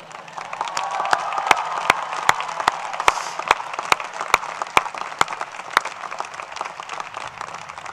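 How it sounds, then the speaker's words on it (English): Large crowd at the 2014 University of Vermont commencement applauding parents and step-parents: sustained, dense applause with a few cheers, and loud individual claps popping out near the front throughout. "Can we get another rousing round of applause for the parents and step-parents"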